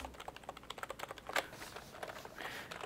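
Rapid, uneven clacking of keys on a cheap V1 membrane computer keyboard, soft and plasticky with a toy-like feel, with a brief louder burst partway through.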